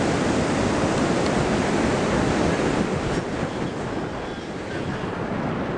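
Steady roar of ocean surf breaking on a surfing beach in Búzios, Brazil, a continuous loud wash of waves with wind across the microphone and no distinct pauses.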